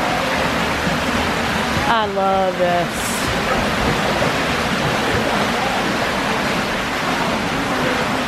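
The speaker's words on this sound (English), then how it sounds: "this place is very distinctive because it's got a little bubbling creek inside of it with a bridge you can walk across." A small bubbling creek runs indoors beneath a walkable bridge in a Disney World Hollywood Studios venue, giving a steady rushing water wash throughout, with a brief spoken remark partway through.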